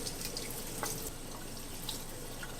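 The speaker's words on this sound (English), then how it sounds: "The first thing I start off with is washing off the oxtails in cold water." Cold tap water runs steadily into a sink as raw oxtails are rinsed, a continuous close splashing hiss with faint drips and no talk.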